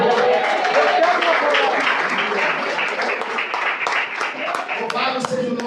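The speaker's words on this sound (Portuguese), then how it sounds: "Você pode aplaudir ao Senhor." A church congregation applauding the Lord, many hands clapping in a full, sustained burst, close and loud, with voices mixed in beneath.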